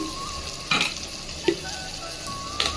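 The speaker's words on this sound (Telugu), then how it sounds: "ఇప్పుడు దీనిలో మనం చేసుకున్న మసాలా అనమాట ఇది వేసుకుందాం" Homemade masala paste for a cashew and potato kurma goes into a hot pan, with a few sharp scraping and stirring strokes over a steady low sizzle, no talking.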